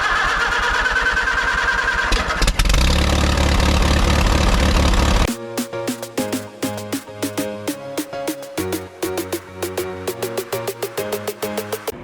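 A Volkswagen Routan van engine cranks and catches, then idles roughly with a steady misfire: loud, uneven pulsing thumps in a lurching rhythm, close up and alone.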